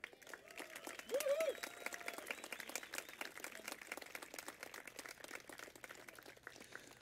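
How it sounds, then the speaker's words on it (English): Outdoor crowd applauding runners at a race gathering, scattered clapping that holds steady at a moderate, slightly distant level with voices mixed in underneath. "And let's give them one more big round of applause."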